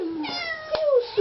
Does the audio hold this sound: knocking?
no